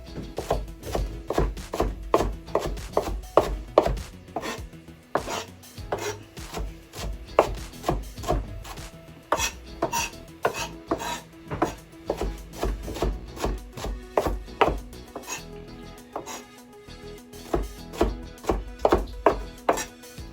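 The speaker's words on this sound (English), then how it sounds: "we're just going to do kind of a rough chop" Knife rough-chopping green tomatoes on a wooden cutting board for salsa verde, a fast run of sharp, closely spaced chops and scraping thuds, loud and near, with no talking.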